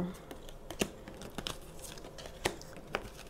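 Tarot cards being drawn and shuffled from a deck of nine, with soft crinkling and sharp papery snaps and flicks scattered irregularly, close up, under faint murmured talk.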